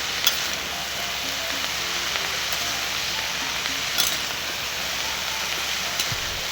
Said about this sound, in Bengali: এবার এটাকে আমি বাঁধাকপি দিয়ে এই মশলার মধ্যে বাঁধাকপি টুকরোগুলোকে দিয়ে ভালো করে নেড়ে নিচ্ছি